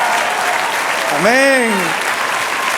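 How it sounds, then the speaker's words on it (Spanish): A church congregation applauds during a sermon with steady, close clapping throughout, while a single voice rings out briefly over it in the middle. "¡Dale aplauso!"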